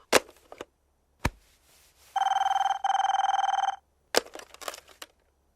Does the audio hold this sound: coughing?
no